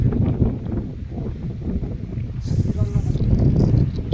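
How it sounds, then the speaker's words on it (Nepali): Strong wind gusts across an open hilltop ridge, buffeting the microphone with a rough, continuous rumble that swells and eases throughout. "डाँडामा बबाल हावा लागिरहेको छ"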